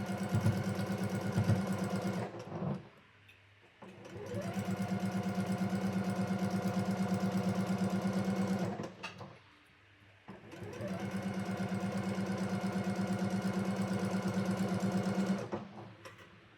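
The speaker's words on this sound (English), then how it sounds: "And I'll just sew through all of my pairs that same way" A sewing machine chain-pieces quilt block seams in three long, steady stitching runs. Its close, even mechanical hum stops briefly between runs, and no one speaks.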